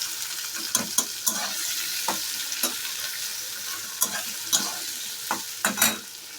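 Onion and potato frying in a pan, a constant bright sizzle with intermittent scraping stirs of a spatula, close and with no voices.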